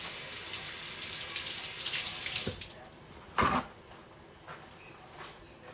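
Kitchen tap runs steadily as fresh herbs are washed under the stream, the water splashing close by before easing off, followed by a couple of brief knocks and clatters at the sink.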